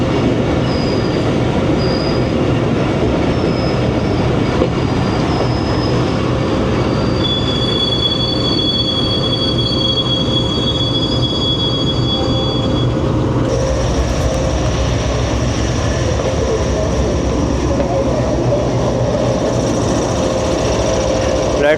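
The Tezgam passenger train stands at Nawabshah station with a loud, steady rumble, squealing wheels and hissing brakes, while a high whine shifts partway through and a voice talks faintly in the background.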